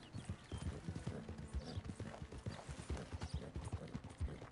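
Horse hooves clip-clop in Red Dead Redemption 2, a quick, steady run of muffled thuds at moderate distance, rhythmic throughout with faint creaking tack beneath.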